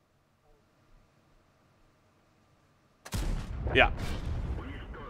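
An ISU-152 tank destroyer fires its gun in the video game World of Tanks, a sudden loud blast that breaks a near-silent stretch, then a ringing, rumbling tail with a brief whistling streak, and a short spoken word nearby.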